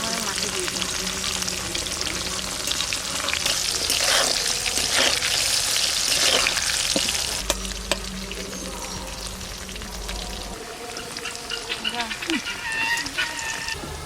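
Potatoes fry in hot oil in a pan for a Bengali mutton curry, a loud continuous crackling sizzle with occasional stirring scrapes and clatters, while someone talks now and then.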